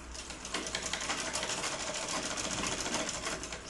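Sewing machine stitching a blouse, a fast steady mechanical whir with rapid needle ticks running close and unbroken throughout.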